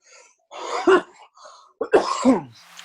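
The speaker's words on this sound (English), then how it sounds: "Sorry, that's a different kind of cough." Two close, harsh coughs with throat-clearing rasp, separated by a short pause, in an otherwise quiet room.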